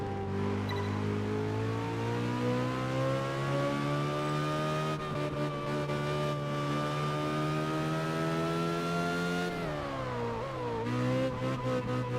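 Car engine in Test Drive Unlimited 2 racing game, a steady loud engine note climbing gradually in pitch as it revs, briefly dropping near the end before rising again, with no talk.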